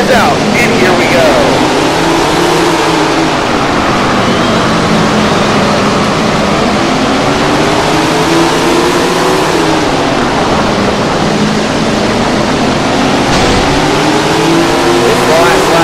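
Sprint car engines roar continuously in the Tony Stewart Sprint Car Racing video game, loud and dense with rising and falling revs, while a voice talks over them.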